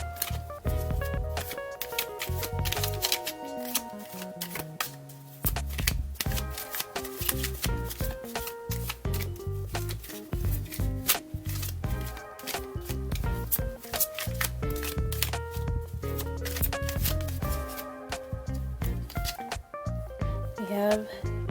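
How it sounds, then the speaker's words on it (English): An Animal Spirits tarot deck is shuffled in repeated bursts of soft riffling card noise, the shuffles recurring through a stretch of background music. "we have to draw from or shuffle from the Animal Spirits deck"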